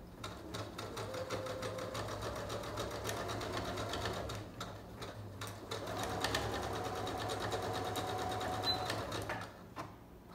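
A sewing machine runs a zigzag stitch on a taco-shaped pillow, a close rapid mechanical chatter that keeps going, with a few short changes in speed and a brief lull midway.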